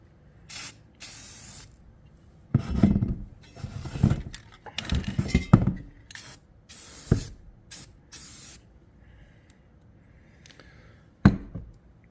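Spray paint hisses onto the inside of rust-repair body panels for a Plymouth Belvedere trunk floor, in loud separate bursts of a second or two with quiet gaps between them.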